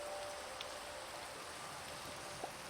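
Steady rain falls in Minecraft at night, a dense, even hiss of drops with a few faint, brief ticks and no voices.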